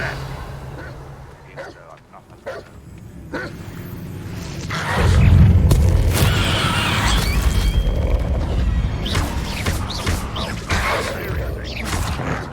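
A Revelio spell cast in Hogwarts Legacy: after some soft clicks and rustles, a deep booming magical whoosh swells up and lingers as a broad shimmering wash, fading slowly over several seconds.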